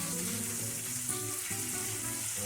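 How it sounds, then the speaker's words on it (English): Garlic sizzles steadily in a hot pan alongside steak, a continuous bright frying hiss with a faint low hum underneath and no voices. "You take the garlic, move it around the pan to get that flavor in the pan."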